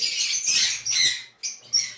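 Sun conure parrots give loud, shrill squawking calls close by, a few sharp screeches in quick succession with brief pauses between them.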